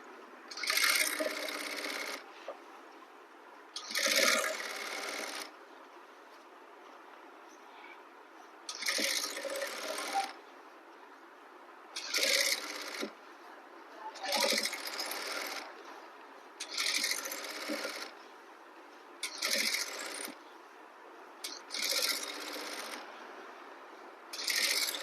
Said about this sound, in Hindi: मैं एक सिलाई लगा लूंगी ताकि ये अच्छे से बैठ जाए।